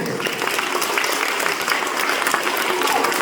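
An audience at a school assembly claps continuously, a dense crackle of many hands heard up close for a few seconds.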